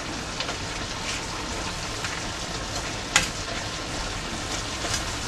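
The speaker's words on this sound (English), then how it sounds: "Now uncover. And stir everything up really good." Food sizzling in an uncovered pan while being stirred, an even, fairly quiet frying hiss with faint scrapes and one sharp clink partway through, and no voices.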